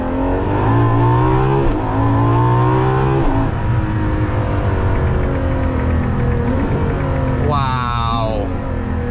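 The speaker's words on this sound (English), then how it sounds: "this has the best powertrain with that naturally aspirated V12" A Ferrari LaFerrari's naturally aspirated V12 drones loud and steady from inside the cabin, its pitch climbing in long sweeps through the gears, with a brief spike of revs near the end.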